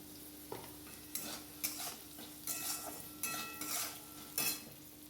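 Vegetables with green chili frying in a pan, a quiet sizzle broken by bursts of stirring and scraping, close but faint, with no talking.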